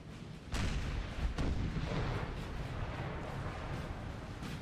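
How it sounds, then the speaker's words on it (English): Artillery fire in a Napoleon: Total War battle in a frozen wasteland, a heavy boom opening into a sustained rumbling barrage with further thuds layered on top, loud and continuous throughout. "You think point-blank artillery shots would be doing something for me here"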